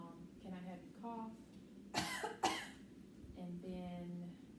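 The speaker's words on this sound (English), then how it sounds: "So can I have you cough?" A patient coughs twice in quick succession during a neurological exam, two short sharp bursts close to the microphone, with talk before and after.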